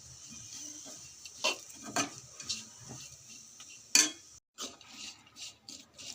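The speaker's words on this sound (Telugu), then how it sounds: "కారం వేసాక ఒకసారి బాగా కలుపుకోవాలి" A utensil stirs bitter gourd with garlic chili powder in a cooking pan, making sparse, irregular clinks and scrapes, with one sharper knock near the end, in an otherwise quiet kitchen.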